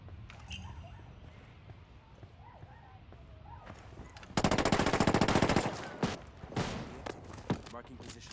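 Heavy automatic gunfire in the video game Ghost Recon Wildlands: one loud, sustained rapid burst in the middle, followed by scattered single shots, with faint radio-style voices underneath earlier on.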